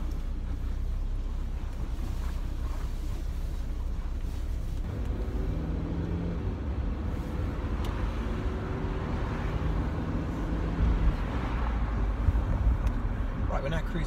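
A 1997 Saab 900 Convertible driving along, with a steady low engine and road rumble plus some wind noise from inside the car, while someone talks over it throughout.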